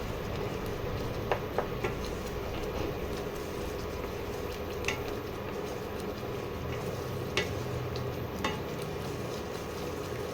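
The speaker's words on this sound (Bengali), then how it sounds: "এইবারে ভালো করে কষাতে হবে" Spice masala being stir-fried for an egg curry, a continuous low sizzle and bubbling with occasional scraping and tapping sounds from stirring, fairly close and steady throughout.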